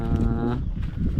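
A goat or kid in a village gives a single loud, close bleat, followed by a quieter stretch of rustling background noise.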